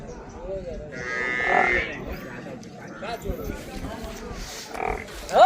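At a rural livestock market, a Haryana dairy buffalo gives a deep, drawn-out moo close by. Scattered calls and crowd chatter follow, and people talk throughout.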